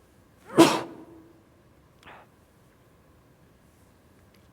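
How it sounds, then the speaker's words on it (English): One sharp sneeze bursts out near the microphone, then a faint sniff follows, against a quiet room. "I'm going to sneeze."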